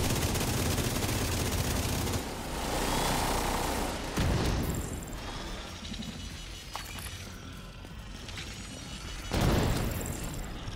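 Gunfire during a combat mission in The Division video game, with dense overlapping bursts and booms forming a steady loud barrage that swells near the start and end.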